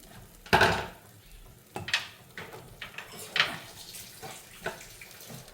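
Water is splashed and poured into a metal pot for cooking mussel curry in several short bursts, with light clinks of cookware between them, close and fairly quiet.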